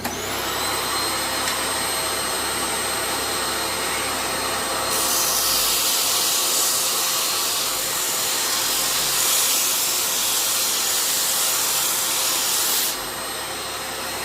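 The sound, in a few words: disc sander running with vacuum attached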